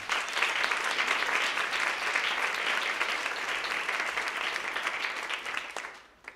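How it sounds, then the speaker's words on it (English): An audience claps steadily and enthusiastically for several seconds before the applause quickly dies away. "Could we just have a round of applause for the Ryerson team?"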